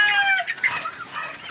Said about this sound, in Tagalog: Bumaba na yung isang manok pala.